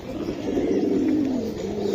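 Pigeons at a pigeon market, a close, continuous chorus of low overlapping coos, steady and fairly full, with no talk.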